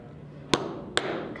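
Two sharp hammer strikes on an eyelet setting tool, spaced about half a second apart, each a loud metallic knock rising above a quiet room with no talking.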